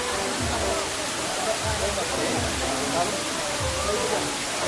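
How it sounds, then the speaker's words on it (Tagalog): Daranak Falls waterfall, a constant broadband rush of falling water filling the background while people talk over it. "Ito yung Daranak Falls, guys."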